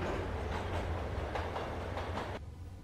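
Train station ambience in Max Payne Remastered: a steady, loud rumble of a passing train with rhythmic rail clatter and low droning, cutting to a quieter hum near the end.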